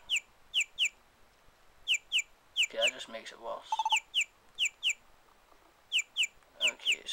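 Bird chirping in the Pokemon Mystery Dungeon: Gates to Infinity video game: quick pairs of high tweets repeating in a steady pattern throughout, while a person talks quietly over them.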